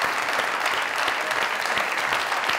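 Studio audience on a comedy talk show claps enthusiastically, a dense, steady roll of applause with sharp individual claps popping through, continuous and close.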